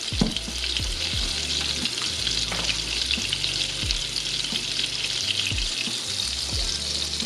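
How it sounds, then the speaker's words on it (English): Steady, loud sizzling of vegan Salisbury steak patties searing in a hot pan, with occasional low clanks and scrapes of a utensil against the pan. "You want to get that little sound like that"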